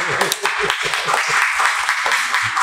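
Steady applause fills the room, a dense wash of clapping with a voice speaking over it.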